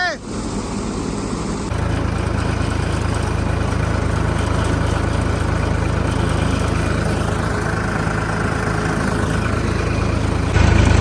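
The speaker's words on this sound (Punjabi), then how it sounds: "ਟਰੈਕਟਰ ਕਰਤਾ ਸਟਾਰਟ" A tractor engine idles with a steady, low rumble that runs continuously after a brief start, close and unchanging in loudness.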